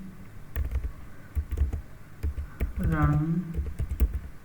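Fingers tap on a computer keyboard in quick, uneven bursts of crisp clicks, with short pauses between words, while someone speaks over the typing.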